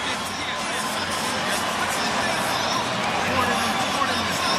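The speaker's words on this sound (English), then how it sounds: "There's a lot of boos for Saul Alvarez, who's up there celebrating as though he's won it" Boxing arena crowd boos Canelo Alvarez after his fight with Gennady Golovkin, a steady, dense roar of jeering voices filling the hall while a commentator talks over it.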